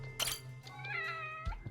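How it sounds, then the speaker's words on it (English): Several cats meowing close by in a game crime scene, a sharp cry followed by a drawn-out, wavering meow and a short final call, with a low steady hum underneath. "Oh, so many cats."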